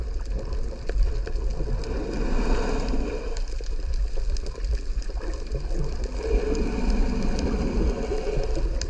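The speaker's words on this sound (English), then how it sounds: "the tour boat's engines are so loud they keep frightening the eagle ray away" Tour boat engines heard underwater make a loud, continuous drone that rumbles steadily throughout, broad and churning, with no voices present.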